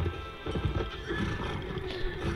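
Horse neighing and whinnying in the Mount & Blade Warband video game, a short clear call with hoof clip-clop beneath, heard alone without talk.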